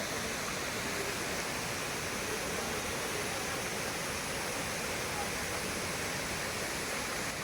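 Lakkam waterfall in Munnar, a continuous broadband roar of falling water, dense and steady at moderate level with no breaks for the whole stretch.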